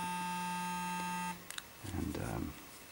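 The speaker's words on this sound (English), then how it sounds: "it has little beeps to let you know how long" A battery-operated men's skincare device gives a single sustained electronic timer beep lasting over a second, clear and close, followed by soft, low talking.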